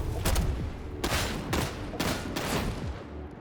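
Weapon fire in Warhammer 40k: Darktide, a long-range gun unleashing four loud, booming shots spaced roughly half a second to a second apart, each with a heavy low thump and short decaying tail.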